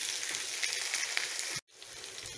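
Sliced onion sizzles and crackles steadily in hot oil in a pan while green chilly chicken is being cooked, close and continuous, before cutting out abruptly and returning more quietly.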